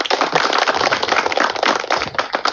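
An audience at a Thai temple gathering applauds: a steady, fairly loud burst of many hands clapping together, dense and continuous for the whole moment with no voices over it.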